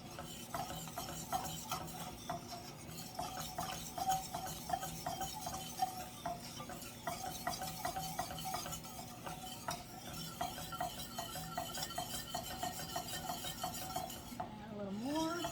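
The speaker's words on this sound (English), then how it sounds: "we're just going to whisk this to break up the flour clumps" Sausage gravy thickening with flour in a pan, whisked steadily with a quick, continuous metallic scraping and clinking rhythm, soft sizzling beneath, close and moderately loud with no talking.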